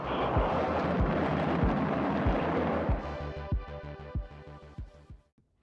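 A rocket ignites at launch, making a loud, continuous low roar with a thumping pulse that fades out at the end.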